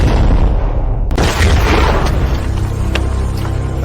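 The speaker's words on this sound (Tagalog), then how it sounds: "Sumabog ang pormasyon ng napakalakas." A heavy explosion effect: a deep rumbling roar builds, then a sudden sharp blast hits and trails into a long, loud, crackling boom with scattered debris-like pops.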